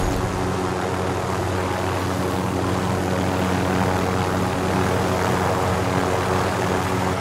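A propeller aircraft engine in Call of Duty Modern Warfare drones steadily and loudly throughout, a continuous close hum with strong low tones and no voices.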